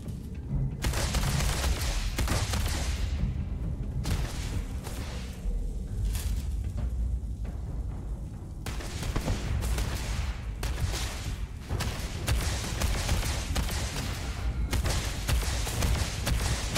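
Loud, sustained turret gunfire in Starfield pounds almost continuously for several seconds with heavy thumping bursts and brief lulls, close and dominant with no talk.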